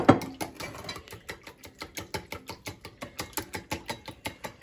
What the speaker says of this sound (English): So I'm just going to whisk those together.